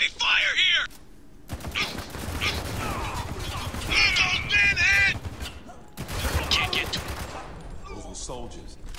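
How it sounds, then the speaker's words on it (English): Heavy gunfire fills the Spec Ops: The Line video game in bursts of rapid automatic shots and loud single reports, close and dense, with shouting voices and grunts mixed in among the volleys. "We're taking some heavy fire here!"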